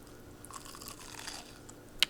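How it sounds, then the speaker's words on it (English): Biting into a crisp Monte Cristo sandwich gives a few soft crunching and chewing sounds close to the mic, ending in a sharper crunch. "You hear that crunch?"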